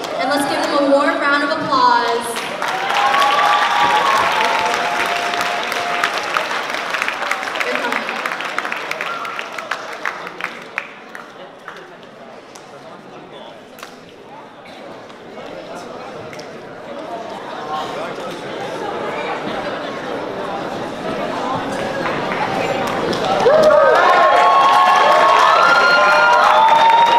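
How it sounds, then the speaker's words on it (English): Loud crowd applause and cheering at a university pageant, thick clapping with whoops at the start that thins to a quieter patter midway, then swells again near the end. "Warm round of applause."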